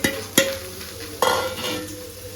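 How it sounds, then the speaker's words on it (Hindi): Sago pearls stirred and fried in a pan, with a steady soft sizzle broken by a few sharp scraping clinks of the spoon against the pan, close and clear with no talking. "अब बारी है साबूदाना ला डाले के, तो ये महा साबूदाना सब बोला धीरे धीरे करके डाल ही।"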